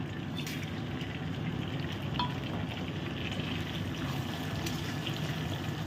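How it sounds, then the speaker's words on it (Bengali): Cumin seeds, whole dried red chillies and a bay leaf fry in oil for a malai curry, giving a soft, even sizzle that holds steady throughout with no talking. "গোটা শুকনো লঙ্কা জিরে আর একটা তেজপাতা ফেড়ে দিয়েছি"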